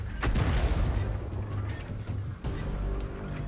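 An AMX 13 57 light tank fires its cannon in a tank video game, a heavy booming blast with a rumbling tail filling the moment, followed by a second thump of battle noise.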